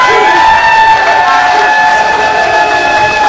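A large crowd of friends gathers to welcome a man home, with sustained cheering, applause and excited shouting filling the air steadily and loudly from start to finish.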